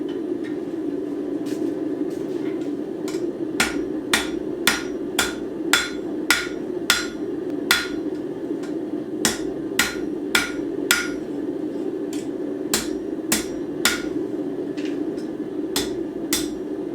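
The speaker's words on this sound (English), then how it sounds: "So we're gonna go back to our forging hammer, and I'm gonna straighten out the handle." A forging hammer strikes a spoon handle on an anvil to straighten it, with sharp metallic blows landing in an irregular rhythm. The close strikes sit over a steady low hum.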